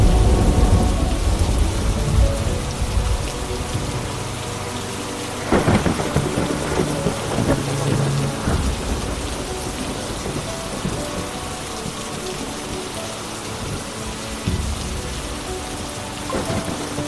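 Heavy pouring rain with rolling thunder at night, loud and dense from the start, easing slightly as rumbles and cracks break through around the middle and near the end.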